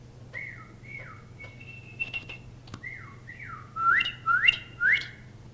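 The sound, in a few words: whistled imitation of a nightingale singing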